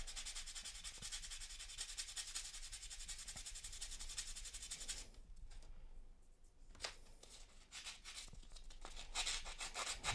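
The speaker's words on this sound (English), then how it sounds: "Just get a nice even sanding going on." Steady hand sanding of a surface, a continuous dry rubbing scrape with rhythmic strokes that pauses briefly midway and then resumes, close and alone.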